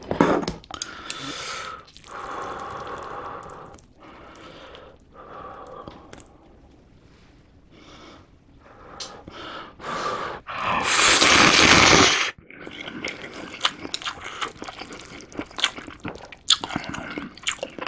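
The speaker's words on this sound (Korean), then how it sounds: "국물에 말고 꾸덕 알을 좀 주려고 먹어볼게요" Slurping, biting and wet chewing of Ottogi O! instant ramen noodles with egg in spicy broth, close and loud, with a long burst of slurping in the middle and softer chewing and squishy mouth sounds around it, with no talk.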